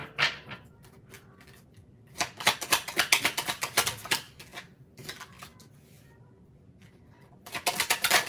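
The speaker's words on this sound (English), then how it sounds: "this is too many cards, so I'm going to reshuffle these." Tarot cards being reshuffled by hand for a Capricorn reading, giving bursts of quick papery snaps and taps in two main clusters separated by quieter handling, with faint talk in the background.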